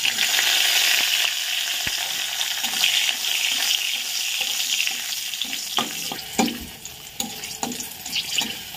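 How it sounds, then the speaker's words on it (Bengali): Green chili frying in blackened oil in a pan, a bright continuous sizzle that stays strong at first, then thins out with several sharp clinks and scrapes of stirring near the end. "এবারে যে লঙ্কাটা ভেজে নিই"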